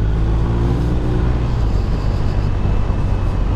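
A BMW R1250RT motorcycle rides along with a steady, loud engine drone and rushing wind noise, continuous and even throughout with no talking.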